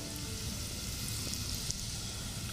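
Asafoetida hitting hot oil for a Maharashtrian kairicha saar, a dense, continuous crackling sizzle with faint pops, steady and close.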